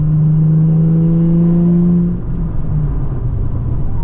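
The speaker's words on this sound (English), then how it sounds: "We'll just accelerate right here for a sec." A Nissan 350Z engine revs up under acceleration from inside the cabin, a loud rising tone that climbs for about two seconds before settling into a rough rumbling drone, with no talk.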